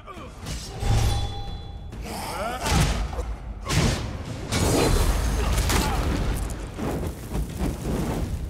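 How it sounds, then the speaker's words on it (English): Several heavy booms and thuds from explosions in the video game Elder Scrolls Online, recurring bursts amid combat noise, with someone talking over parts of it. "There he goes, explosion."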